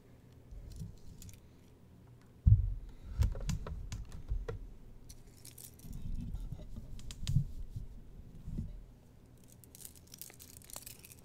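Bursts of keyboard typing come and go, soft clicking keystrokes in short runs separated by brief pauses, fairly close.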